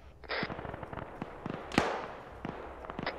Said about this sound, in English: North is towards those gunshots that you can probably hear.